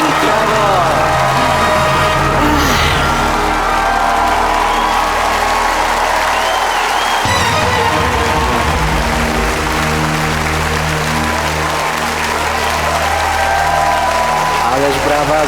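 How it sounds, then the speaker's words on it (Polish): A studio audience on the Polish game show Milionerzy breaks into loud, steady applause with some cheering, continuing throughout while a host talks over it. "Ależ brawa, zasłużone"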